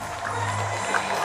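A large crowd at a Biden event as he leaves the stage, a steady roar of cheering and voices heard from within the crowd, loud and continuous.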